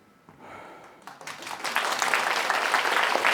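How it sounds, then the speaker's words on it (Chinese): Applause from a lecture audience, starting with a few scattered claps and swelling quickly into dense, sustained clapping that holds loud to the end. "但还是谢谢各位鼓掌。"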